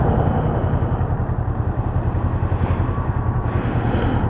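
Kawasaki Ninja motorcycle engine runs steadily during a ride, a loud, constant low rumble with rhythmic pulsing and wind noise, close to the microphone, with no talking.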